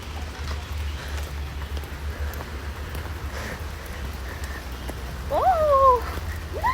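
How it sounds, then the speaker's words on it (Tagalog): Steady rain falls outdoors near the Japanese Tunnel in Baguio City, a continuous soft hiss throughout with a brief bird-like chirp near the end. "Nag-ulan."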